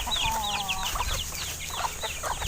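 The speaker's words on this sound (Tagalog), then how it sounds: "eto na yung ating mga manok" Chickens clucking and calling on a backyard farm, several birds close by giving repeated short clucks and squawks over steady outdoor background noise, with no talking.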